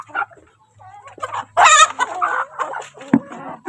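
Chickens eating talisay fruit cluck and squawk close by in short, irregular bursts, with one louder cackling call in the middle and quiet pauses between.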